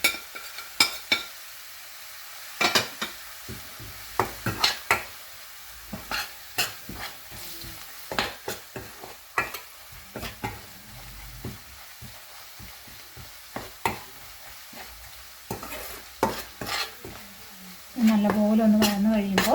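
Spice powders stirred and sautéed in a pan for a Kerala cashew curry, with a light sizzle under repeated sharp scrapes and clinks of a spoon against the pan, close up, and a voice joining near the end.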